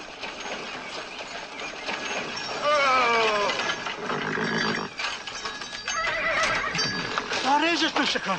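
A horse whinnies several times over clip-clopping hooves and busy outdoor background noise, the neighs rising and falling in pitch, moderately close.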